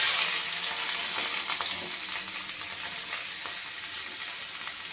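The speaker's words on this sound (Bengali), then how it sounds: "এবার আমি কড়াইয়ের মধ্যে গাজর আর ক্যাপসিকামটা দিয়ে দেবো, দিয়ে ভালো করে ভেজে নেব" Carrot and capsicum fry in hot oil in a wok, a continuous bright sizzle with crackling pops and faint stirring scrapes throughout, close and with no voices.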